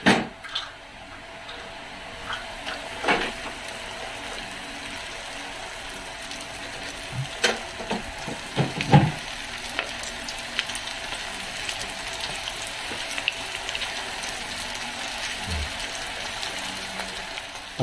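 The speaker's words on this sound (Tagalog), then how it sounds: "Ito naman, sunod ko na itong isda." Bangus (milkfish) frying in a pan with tofu gives a steady hiss and sizzle of hot oil, broken by occasional sharp clanks and scrapes of utensils against the pan, with no voices.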